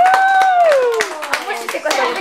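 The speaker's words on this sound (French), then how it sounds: "Hey, on les applaudit très fort" Hands clapping at a children's magic show with a young boy magician, a few loud claps beneath continuous talk and a sustained sung or spoken tone.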